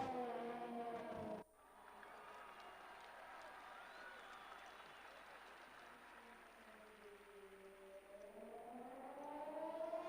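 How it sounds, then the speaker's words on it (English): A safety car siren wails in a racing video game, rising steadily over engine noise and a crowd, with a commentator speaking over it; the tone cuts out briefly before coming back and swelling again. "Oh, safety car."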